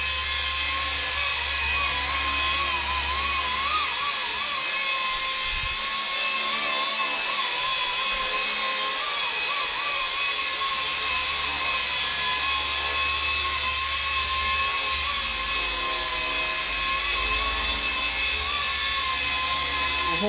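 A WLtoys K200 budget RC helicopter hovers indoors with a steady, loud, high motor whine and rotor buzz that hold unbroken throughout, with no talk over it.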